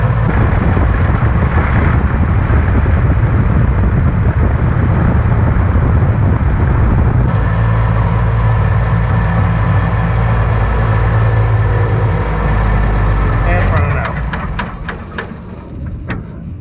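A rescued junkyard Lull forklift engine running: a loud, steady low rumble with rough mechanical clatter that holds for most of the stretch, then fades toward the end amid some rattling, with no speech.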